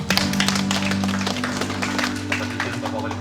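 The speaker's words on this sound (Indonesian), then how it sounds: "Mari kita tepuk tangan semua." An audience claps at a building inauguration and blessing ceremony, a dense, steady patter of many hands held over a constant low hum for a few seconds with no voices.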